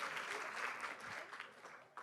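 Applause from a conference audience at a retreat, steady dense clapping that stays fairly quiet and distant for about two seconds, with a brief sharper burst near the end.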